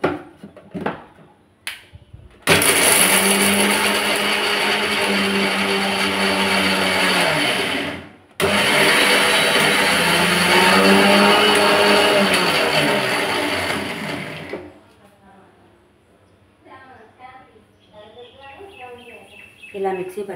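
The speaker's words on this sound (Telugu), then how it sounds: "వీటన్నిటిని కలిపి మిక్సీ పట్టుకోవాలి." A kitchen mixie grinds chili powder and spices for capsicum curry in two loud, steady bursts of whirring motor noise, separated by a brief pause, followed by quieter clattering and faint background chirps.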